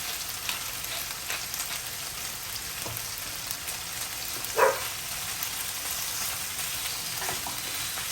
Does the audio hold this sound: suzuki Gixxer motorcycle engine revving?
no